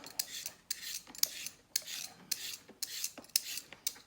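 Carrots rubbed on a hand grater for a vegetable stew, giving a run of about eight rhythmic, bright rasping strokes, close and fairly quiet, with no talking.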